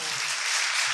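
Brief, bright clapping from a devotional gathering's audience at a Sunday feast, a dense wash of hands, steady and moderately loud.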